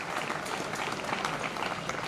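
An audience at a college day ceremony at a polytechnic bursts into steady, dense applause from many hands, filling the hall evenly from start to finish with no voices standing out.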